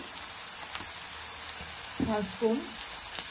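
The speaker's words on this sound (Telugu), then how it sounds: "ఇది మళ్ళీ కొంచెం పచ్చి వాసన పోయేంత వరకు ఫ్రై చేయాలి, ఒక 5 minutes అట్లా" Ginger-garlic paste fries with onions in a pan for a sprouts chicken curry, a close, steady hiss with a few soft stirring sounds and a brief voice-like murmur midway.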